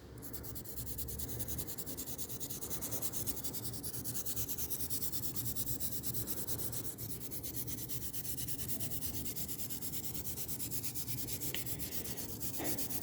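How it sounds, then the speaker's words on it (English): Charcoal dust being rubbed steadily across a sheet of paper to lay down an even gray ground, a continuous close, dry scratchy friction with no pauses and no voices. "you're going to make an even layer of charcoal dust on your whole paper"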